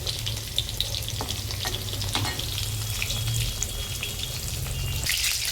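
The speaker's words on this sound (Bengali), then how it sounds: "তারপর ডিম দিয়ে দিয়েছি তেলে ডিমটাকে ভালো করে ভেজে নেব" Duck egg fries in hot oil that was already used for frying bitter gourd, giving a steady, close hiss and sizzle with faint stirring scrapes and no voices.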